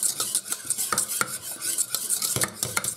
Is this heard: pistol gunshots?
no